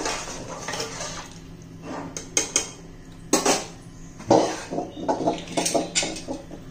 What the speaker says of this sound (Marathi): आता आपण कुकरला झाकण लावून घेऊया.